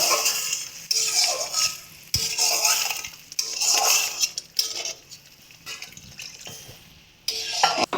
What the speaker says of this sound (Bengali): এই অবস্থায় আমরা দিয়ে দিচ্ছি জলটা, অল্প অল্প করে জলটা অ্যাড করব।